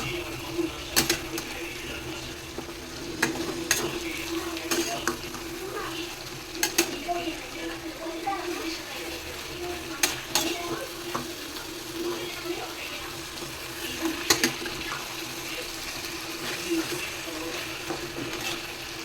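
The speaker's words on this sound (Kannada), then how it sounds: "ಮಸಾಲೆ ಐಟಮ್ ಹಾಕ್ಕೊಂಡು ಒಂದು ಸ್ವಲ್ಪ ತಿರುಗಿಸ್ಕೊಡಿ, ಎಲ್ಲ ತಳ ಅಂಟ್ಬಿಡುತ್ತೆ" Chicken with masala spices being stirred in a frying pan, with soft scraping clicks and periodic sharp spoon strikes against the pan over a steady low sizzle, close and moderately loud with no talking.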